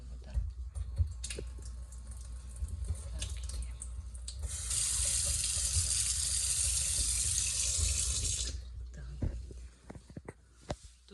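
Water runs steadily from a kitchen tap fed through a reverse osmosis filter, a bright hiss lasting about four seconds in a room with scattered clicks and handling noises before and after.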